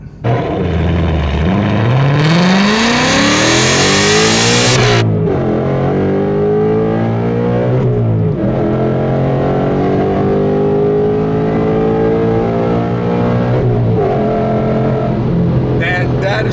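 A 2019 Ford Mustang GT with a 6-speed manual launches hard from a stop at a traffic light, its engine roaring up through the gears with clear shifts in between, loud and close from inside the car.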